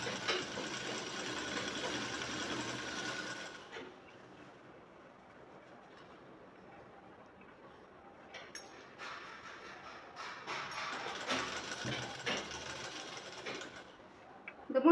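A sewing machine stitches a shirt front and collar in two bursts of close, rapid, rattling stitching, with a quiet pause between them.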